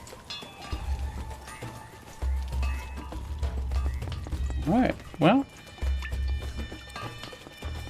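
Horse hooves clip-clop along in Conan Exiles, a steady, fairly quiet rhythm of hoofbeats beneath ongoing talk, with a brief whinny-like call rising partway through.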